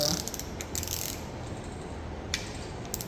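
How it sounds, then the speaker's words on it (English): Torque wrench ratcheting while tightening the timing chain plate bolts on a 2008 Saturn Aura GM 3.5L engine, a few faint clicking ratchet strokes up close, no talk. "This torque wrench I'm using right now goes down to 20 foot-pounds"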